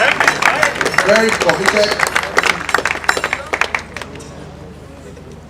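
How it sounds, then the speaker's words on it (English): An audience claps and cheers loudly at a public event, with a voice speaking over the start. The applause stays dense, then thins and fades out over the last seconds. "Please, a beautiful round of applause for him."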